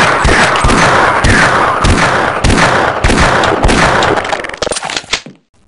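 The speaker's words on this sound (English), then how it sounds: "Open fire, Barn! Open fire!" Rapid weapon fire from the Half-Life: Azure Sheep game, loud bursts of shots in quick succession for about five seconds, then breaking off into a few scattered reports and fading out.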